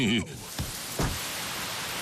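Steady hiss of rain falls throughout a cartoon scene, with a couple of brief louder splashes or thuds early on and a short tonal sound at the start.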